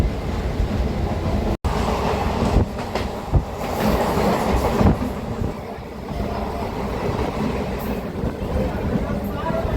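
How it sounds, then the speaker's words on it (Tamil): A local commuter train bound for Chennai Beach rumbles along steadily with rattling carriages and clacking wheels, heard from onboard, with people chatting underneath the noise. "மார்னிங் டைமில் சென்னை பீச் போகிற லோக்கல் ட்ரெயின்"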